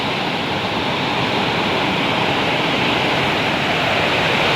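Loud, steady downpour of heavy rain falls on a small hut, a broad, even wash of hissing water with no pauses or other sounds.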